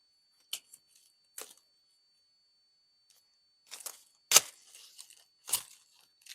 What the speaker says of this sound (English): Cutting them involves scissors.